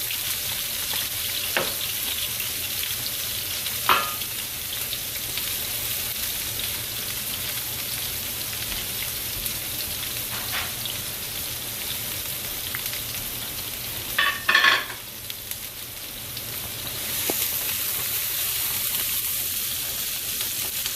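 Peppers and onions sautéing in a pan, a steady hissing sizzle like light rain throughout, with a few isolated taps and a brief louder burst of clattering stirring near the end, no talking.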